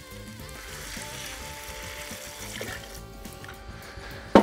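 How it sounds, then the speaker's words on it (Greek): Water poured into a pan of frying spices for a sweet potato curry, a continuous bubbling sizzle and trickle heard close, steady throughout, with a sharp clatter at the very end. "θέλω να μυρίσω όλα τα μπαχαρικά, σβήνω με νεράκι."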